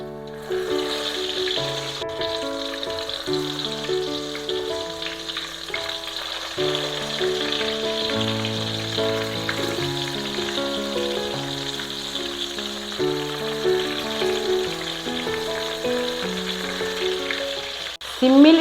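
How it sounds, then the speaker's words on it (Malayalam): Brinjal slices sizzle steadily in hot oil with curry leaves in a pan, a continuous even frying hiss running under louder background music throughout. "ഇപ്പം നമ്മൾ വഴുതനങ്ങ ഇതിലേക്ക് ഇടുക."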